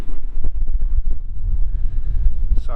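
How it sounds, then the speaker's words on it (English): Gusty wind buffets the microphone outdoors beside a Kubota M6800 tractor with loader, a continuous low rumble that swells and dips throughout, loud and close, with no other clear sound. "Sorry, it's real windy here."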